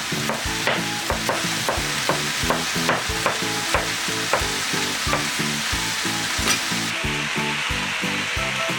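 Sliced vegetables and carrot being stir-fried in a pan for a salt-seasoned vegetable soup, with steady loud sizzling and a regular rhythm of spatula scrapes and stirs throughout.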